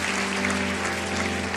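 A church congregation applauding during a Portuguese-language worship service, a dense, steady wash of many hands clapping together, close and sustained for the whole moment, with a low hum underneath.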